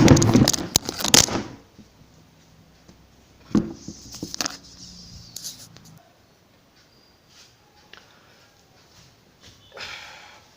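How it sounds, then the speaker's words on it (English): Brisk scrubbing strokes erase boxes drawn on a classroom board during a periodic table lesson. The rubbing comes in separate bursts: a loud, heavy one at the start, a shorter one midway and a faint one at the end, with near silence between. "so we can erase these boxes also"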